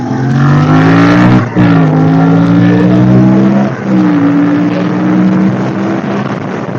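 A motorbike is ridden on a twisty road with traffic, the engine loud and close, revving up and down in several gear-like rises with brief dips between them.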